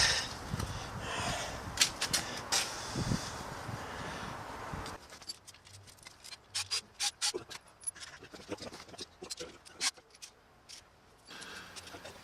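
Bolts come out of the primary chain case cover on a 2011 Harley-Davidson FXDC, heard as faint scraping and rubbing followed by bursts of quick ratchet-like clicks, close and quiet, with no speech.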